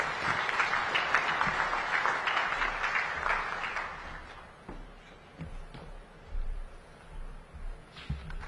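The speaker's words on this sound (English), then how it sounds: "Another round of applause, ladies and gentlemen." Broad, sustained applause from an audience at a summit of heads of state, full and even for about four seconds, then thinning out to a few faint scattered claps.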